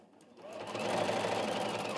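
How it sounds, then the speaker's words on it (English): An electric sewing machine stitching around the top of a piece on its free arm, a quiet, fast, even whirring that starts up and runs steadily at close range. "I'm using the free arm just to sew around the top"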